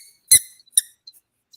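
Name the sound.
squeaking rubber toy alligator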